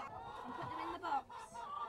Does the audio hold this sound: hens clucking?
yes